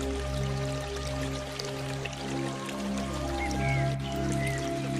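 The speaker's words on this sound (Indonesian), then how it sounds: "aliran sungai kecil yang mengalir dengan tenang" A small stream flows gently beneath a bridge, a soft continuous trickle and light dripping with a steady low hum underneath, even and calm throughout, with no talking.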